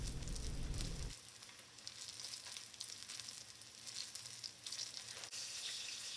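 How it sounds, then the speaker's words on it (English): Chicken pieces dropped into a pot of hot oil set off a loud, steady sizzle and crackle that settles into continuous frying after an initial burst of low clatter. "I'm putting the chicken into the hot oil"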